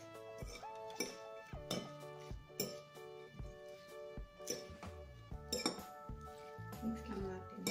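Salad being tossed in a bowl with olive oil and Italian seasoning, giving repeated clinks and scrapes of utensils against the bowl in an irregular rhythm, with music playing underneath.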